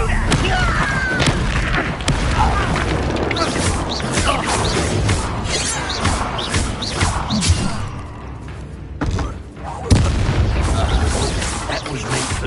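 Spell blasts such as Bombarda explode in Hogwarts Legacy, heavy booms and whooshes packed into a dense, loud battle din that barely lets up, with voices shouting in the fray.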